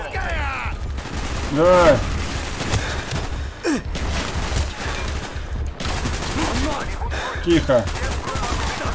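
Bursts of gunfire in the Call of Duty Black Ops video game, continuous rattling volleys under excited shouting voices.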